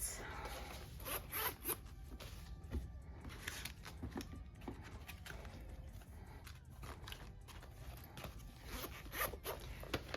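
A zipper is pulled repeatedly on a wallet holding cash envelopes, giving close, crisp zipping rasps and handling rustles spread across the clip.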